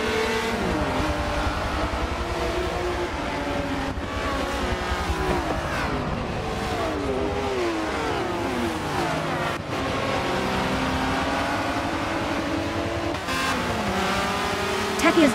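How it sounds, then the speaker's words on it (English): A Honda race car in Forza 7 roars around Circuit de Catalunya, its engine revving up and down through gear changes in a continuous, close, loud drone. Faint commentary talk sits underneath. "Taki is doing a really good job driving the Honda as she now goes through the backstretch"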